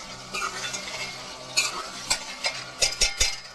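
Tomatoes and chicken fry in a pan while being stirred, with soft sizzling under repeated scraping strokes of a spoon that grow sharper and more rhythmic toward the end.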